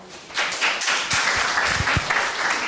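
A church seminar group breaks into short, lively applause, dense clapping from many people that swells quickly and holds for a couple of seconds.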